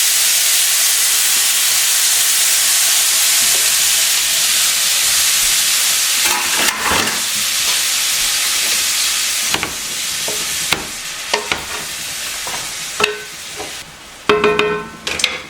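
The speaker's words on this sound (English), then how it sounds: "now we're going to put our shrimp" A steady sizzle of shrimp frying in butter fills the pan, with occasional clinks and stirring sounds toward the end.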